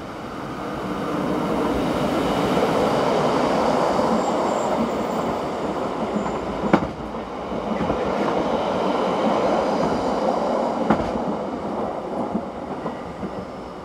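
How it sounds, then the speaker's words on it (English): A Swiss train running from Davos Platz to Landquart passes by, a steady, loud rumble of wheels and carriages lasting throughout, with a couple of sharp clanks from rail joints and no voices. "Next to pass by was the 1002 from Davosplatz to Landquart."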